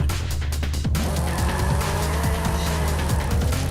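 A Chevrolet Camaro ZL1 1LE with a giant rear wing roars in Forza Horizon 5, its engine loud and close with rapid revs and gear shifts, and a brief tire squeal as it drives hard.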